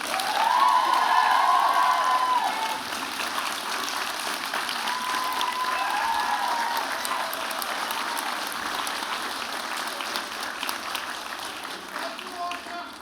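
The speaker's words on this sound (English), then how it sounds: "maybe you could offer a huge round of applause to the faculty and the staff who supported you" Graduating crowd at a spring university convocation ceremony breaks into sustained applause with some cheers, loudest at first and then tapering to a softer, steady clapping that continues to the end.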